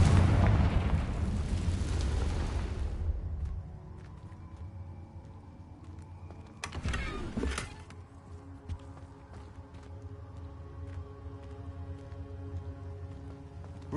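A Confringo spell blast in Hogwarts Legacy on PlayStation 5, heard as a loud rumbling burst that fades over a few seconds, then a sharp crackling hit, with a low hum continuing beneath.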